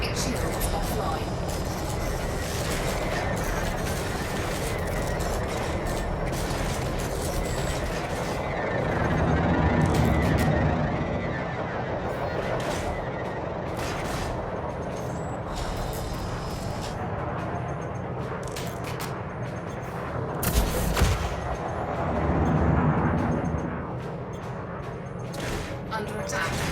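Weapon fire strikes a Federal Gunship in the space game Elite: Dangerous, a dense, continuous barrage of rumbling impacts and booms with louder bursts near the middle and end, mixed with ship noise and an automated voice.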